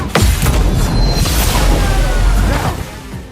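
A heavy booming skill explosion from the video game Clair Obscur: Expedition 33 hits, then rumbles and crackles for a few seconds before fading out.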